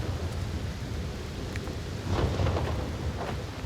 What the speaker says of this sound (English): Wow, this thunderstorm.